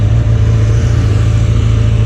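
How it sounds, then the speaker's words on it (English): A superbike's engine pulls hard under throttle as the rider accelerates, giving a loud, steady, deep drone that holds throughout with no voices. "See how the bike pulls."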